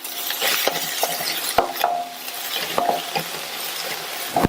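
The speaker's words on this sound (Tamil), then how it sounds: "இந்த வெங்காயம் 1 நிமிஷம் போல சிம்லயே வதங்கட்டும்" A chopped medium onion with green chillies sautés on a low flame, sizzling softly. A spoon scrapes and clinks against the pan in irregular strokes, close and clear, with no voices.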